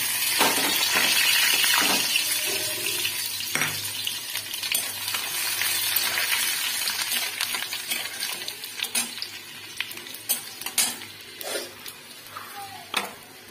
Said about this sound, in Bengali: এবার কড়াইতে তেলের ভিতরে আমি রসুন কুচি দেবো